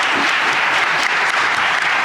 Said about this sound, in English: Big round of applause for the candidates.